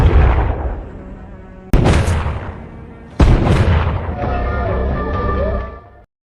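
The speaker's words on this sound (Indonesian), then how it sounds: "berlari ke arah suara tembakan" Gunfire in the action film Faster: three heavy, booming shots, each with a sharp onset and a long rumbling tail, the last trailing into sustained ringing before it cuts off.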